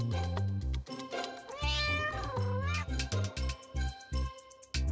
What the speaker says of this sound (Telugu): ఇదిగోండి జుమనన్నయ్య, మీరు అడిగిన పిల్లి